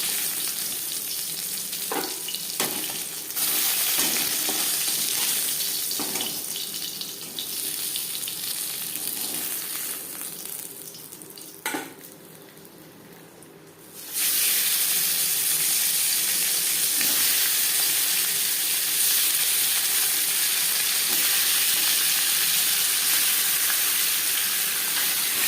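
Pieces of catla fish frying in oil give a loud, dense sizzle that dips quieter for a stretch with a few stirring clinks, then surges back to a strong, steady crackle.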